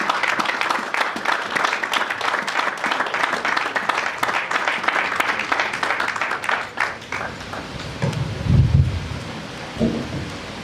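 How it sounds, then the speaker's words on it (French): A church congregation gives sustained, dense applause that rattles on for several seconds before thinning out, while a low rumble and a few voices rise near the end. "On va prendre l'applaudissement."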